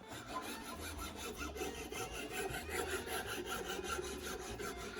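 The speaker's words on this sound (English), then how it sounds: "We're just gonna smooth it out with the file." A metal file rasps steadily back and forth over a diamond painting pen, smoothing its rough edges in a continuous, close, fairly even scraping with a regular stroke rhythm and no talking.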